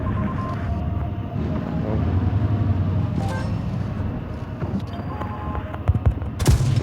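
A heavy tank cannon blast booms out near the end, following a stretch of rumbling engine and battle noise with scattered distant impacts, in World of Tanks.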